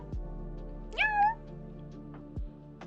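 A person's voice imitates a cat's meow, giving one short rising-falling mew, close and fairly quiet.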